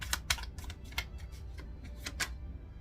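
Quick papery riffles and soft clicks of tarot cards being shuffled, in short bursts close up, fairly quiet with no speech.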